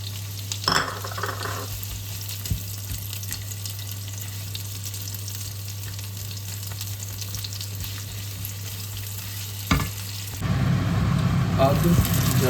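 Onions frying in a pan for Malvani chicken ghee roast give a steady close sizzle under a constant low hum, with a few scraping stirs, and the frying grows louder and brighter near the end.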